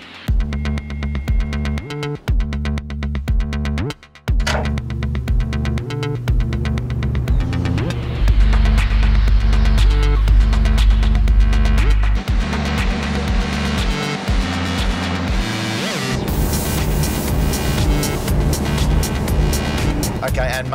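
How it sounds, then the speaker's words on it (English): Ford Motor Company wind tunnel spinning up to blow an 80 mph stream of air over a car, a deep throbbing roar and hum that builds and holds, with people talking over it. "this is going to be an 80-mile-an-hour gust of wind or stream of air that's going to be going over the car"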